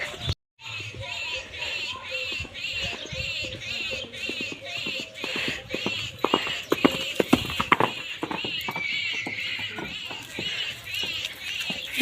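A mare being ridden on a road, hooves clip-clopping in a steady run of sharp, fairly close knocks that grow denser toward the end, with faint voices and background noise beneath.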